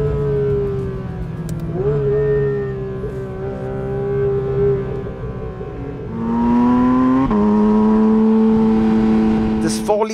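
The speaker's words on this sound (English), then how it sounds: "Just hear that engine." A 2022 Porsche 911 GT3 RS with a 4-liter naturally aspirated flat-six and hotter camshafts revs hard toward 9,000 RPM, a loud sustained wail rising in pitch across gear changes, with a voice speaking over it.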